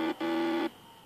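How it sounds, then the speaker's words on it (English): A FarmBot stepper motor drives the Z-axis with a steady, buzzing electronic whine in two bursts, a short one then a longer one broken by a brief gap, close and alone. "this motor, the Z-axis, should move."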